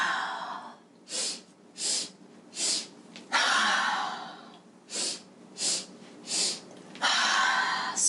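Rhythmic series of short, sharp nasal sniffing inhalations, alternating with longer whooshing exhalations through the mouth, during a breath of joy yoga exercise; loud and close, with no talk over them.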